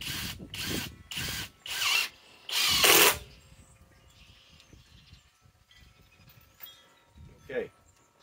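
A cordless power drill in screw mode drives screws into sheet metal in several short, loud whirring bursts. Quieter handling noise follows, then one last brief burst.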